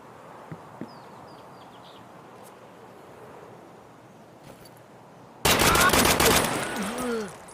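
A burst of rapid automatic gunfire in Escape From Tarkov erupts loud and close after a quiet stretch of faint ambient noise and a couple of distant shots.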